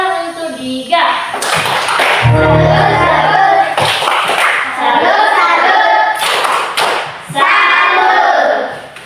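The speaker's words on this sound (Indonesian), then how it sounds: "Tepuk tangan untuk Diga." Applause from a classroom of children during a teaching session, bursts of clapping mixed with kids' chatter and a low thud around the middle, fairly loud and close.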